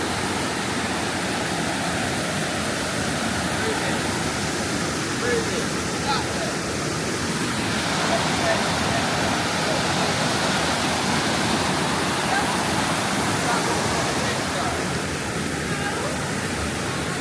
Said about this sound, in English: What is this waterfall called?